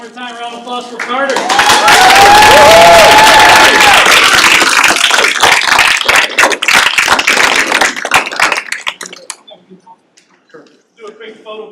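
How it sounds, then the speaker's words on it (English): A room of people gives Carter loud, sustained applause at a youth apprenticeship signing day, with a whoop or two over the clapping. It fills about eight seconds, then thins out into a few scattered claps and voices. "One more time, round of applause for Carter."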